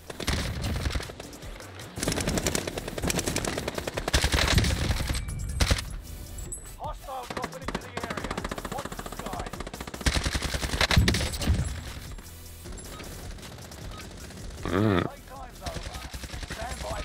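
AMAX assault rifle fire in Call of Duty Warzone Pacific Rebirth Resurgence, with sustained bursts of rapid automatic shots and explosions in a loud, busy battle mix, layered with in-game audio and talk.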